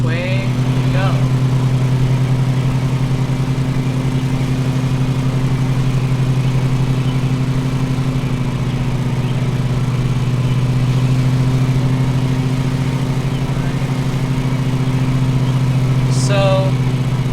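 Ride-on lawn mower with a wide cutting deck in Lawn Mowing Simulator, its engine droning steadily and loudly at an even pitch throughout, with a couple of brief higher chirps near the start and end.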